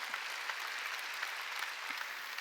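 Applause from a Korean church congregation glorifying God during Sunday worship, steady, dense clapping heard at a moderate distance with no talk over it.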